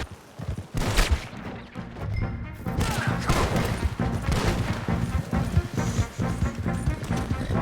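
Gunfire in Red Dead Redemption 2 during a shootout, loud close shots and crashes in a dense, chaotic stream over a busy game soundscape.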